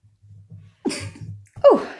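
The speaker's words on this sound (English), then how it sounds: "I'm going to sneeze, excuse me." A single person sneezes indoors, preceded by a short sharp inhale and some low murmuring, the sneeze itself loud and abrupt at the end.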